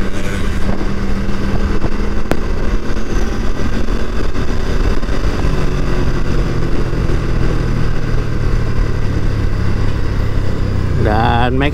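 A Moto Guzzi V100 Mandello Aviazione Navale motorcycle runs under way with a loud, steady engine drone and road rumble, rising pitch sweeps near the end, and a voice speaking over it.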